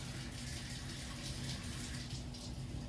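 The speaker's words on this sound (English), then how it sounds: "Get one last rinse through" Running tap water pours steadily over a woodpigeon carcass being rinsed, a constant close splashing stream with no speech.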